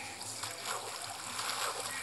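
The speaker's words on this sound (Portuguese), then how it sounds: "Tem água, mas tem água aqui" Flowing water in the Minecraft video game, a soft steady trickling wash that runs continuously and fairly quiet throughout, with faint low background hum beneath.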